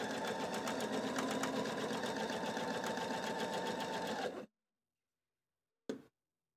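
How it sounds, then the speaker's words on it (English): A Husqvarna Viking sewing machine with a pintuck foot stitches pintucks in fabric, a steady, close whirring hum for about four and a half seconds, then silence and a brief final burst of stitching. "Let that first pintuck follow your line all the way down the fabric."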